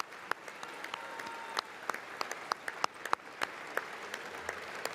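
Applause in the chamber during the State of the Union address, heard faintly and distantly as scattered sharp claps over a soft crowd murmur, with sparse individual claps popping out.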